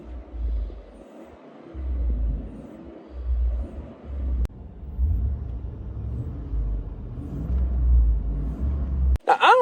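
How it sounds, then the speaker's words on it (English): Pickup truck engine fitted with a Rough Country air intake, a low idling rumble that swells and dips in uneven surges, with a sharp click partway and a brief noise at the end. "It's not a bad sounding truck."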